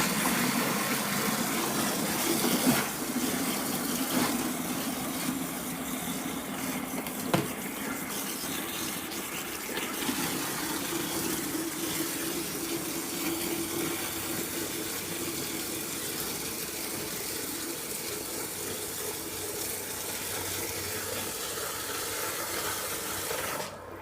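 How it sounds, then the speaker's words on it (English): Water pours and splashes steadily into a container holding a nutrient mix, a continuous loud rushing fill that lasts throughout with no talking. "I'm just going to add my water."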